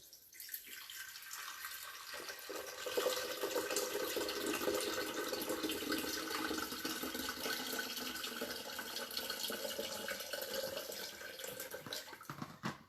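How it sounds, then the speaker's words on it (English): Filtered water poured steadily into a blender jar while making a chocolate almond butter smoothie, a continuous close splashing stream with no talk over it. "And to this, we're gonna add 4 cups of water."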